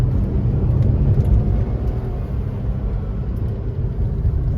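Old automatic car accelerating in second gear, with a steady, loud, low engine rumble and road drone continuing throughout from inside the cabin.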